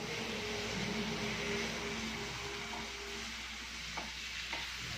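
Home-grown tomatoes sauté in a pan under a constant broad sizzle, with a low background hum and a couple of light utensil taps near the end. No one speaks.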